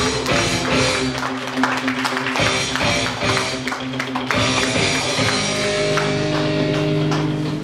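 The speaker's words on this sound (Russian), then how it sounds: "Аплодисменты!" Wedding guests in a banquet hall applaud the groom, a dense, steady wash of clapping lasting throughout with music playing underneath.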